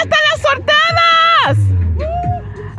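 Women in a Zumba weight-training class shouting a loud, drawn-out yell together, close and energetic, with an instructor's voice calling out around it.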